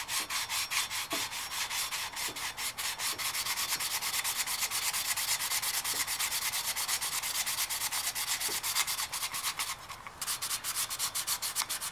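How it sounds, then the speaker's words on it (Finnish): Sandpaper rubbed by hand over a brake part from a Valmet 602 tractor during a brake repair, a steady, close, continuous scratchy hiss with faint rhythmic strokes and no talk. "Ja nyt vaan siistin tällä hiekkapaperilla tää."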